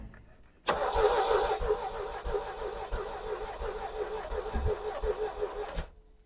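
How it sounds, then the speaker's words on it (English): A cheap, rough Chevrolet Corvette engine cranks and catches, then idles loud and uneven with popping, sputtering pulses from the exhaust as it tries to backfire, running steadily for several seconds before cutting off. "she's like trying to backfire out the exhaust"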